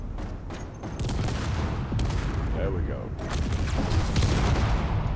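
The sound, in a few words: explosions in a video game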